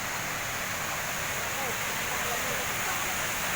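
A steady rushing of water, like a fast river nearby, forms a constant broad wash of noise.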